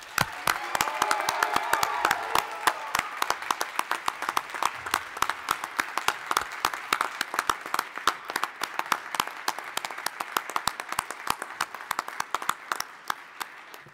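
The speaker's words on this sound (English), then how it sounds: "give yourselves a round of applause" Graduates of Grand Rapids Community College's 2021 class applaud themselves at commencement in a large hall, a sustained crowd roar of clapping with sharp individual claps, faint cheering and voices early on, thinning slightly as it goes.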